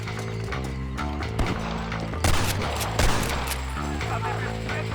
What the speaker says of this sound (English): Follow me, we'll shoot our way in there.